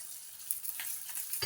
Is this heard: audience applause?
no